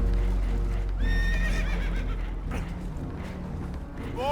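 Spooked horses whinny and neigh in Red Dead Redemption 2 aboard a boat taking on water, shrill rising cries over a steady low rumble of water and hooves, close and loud.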